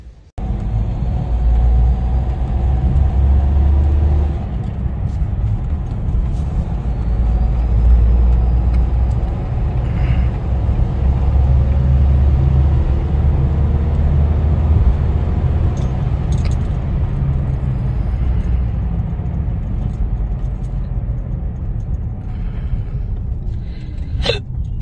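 A Hyundai Xcent diesel car on a test drive after servicing for low pickup, heard from inside as a steady low engine and road rumble with light rattles and key jingles.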